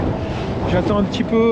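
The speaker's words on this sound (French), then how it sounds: "ça souffle bien, hein. Il y a 20 nœuds de vent" Strong wind of about 20 knots buffets the microphone aboard a solo sailboat under staysail in the Mediterranean, a steady close roar with water rushing beneath, while someone speaks over it.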